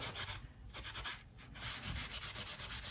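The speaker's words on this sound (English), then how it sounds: "you don't want to scrub hard either because these magic erasers crumble" Magic eraser sponge scrubbed against a shoe being cleaned for resale, a soft raspy rubbing in quick back-and-forth strokes with a couple of brief pauses, close and fairly quiet.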